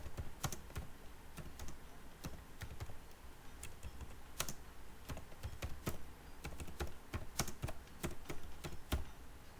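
Keys clack on a computer keyboard in an irregular stream of sharp taps, some louder than others, close by in a quiet room.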